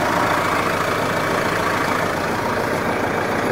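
A tractor pulling a box blade on a gravel driveway runs steadily in low gear, a continuous loud engine drone with a low rumble and no pauses.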